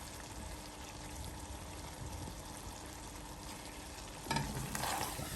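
Biryani frying and being stirred in a pan with mint leaves and bullet chillies, a steady soft sizzle with faint scraping and a brief louder clatter near the end.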